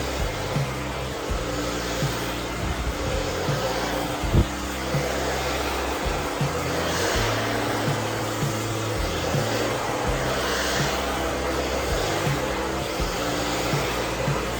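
A hair dryer blow-drying 4c hair in a salon runs loud and continuously close by, a steady roaring airflow with slight shifts in pitch as it moves.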